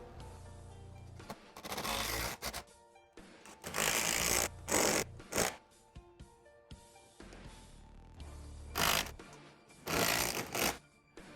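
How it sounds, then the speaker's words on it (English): A lag screw is driven through a metal bracket into a pilot hole in a woodworking shop, heard as repeated bursts of a driver whirring and grinding, separated by brief pauses, moderately loud and close. "gently drive in the lag screw"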